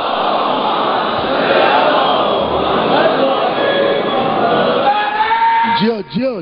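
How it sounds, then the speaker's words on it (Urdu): A large crowd at a Shia majlis loudly recites salawat in unison, a dense roar of many voices, with a single amplified voice rising near the end. "نہیں صاحب، بلند ترین سلوات بھیجے آپ محمد آل محمد."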